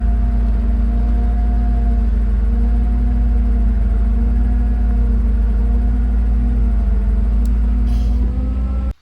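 A bucket truck's engine idles close by at a building site, a steady low rumble with a constant hum that holds evenly before cutting off abruptly at the end.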